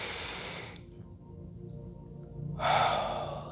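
Breathy airflow during a guided yoga breathing exercise, a long exhale fading out, a stretch of quiet, then a strong close deep inhalation near the end.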